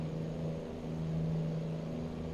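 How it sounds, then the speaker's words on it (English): Continuous low, throbbing drone of a Mack Superliner truck's Jake brake in American Truck Simulator, a steady pulsing engine-braking rumble at moderate loudness with no voices over it. "Definitely one of my favorite Jake brakes."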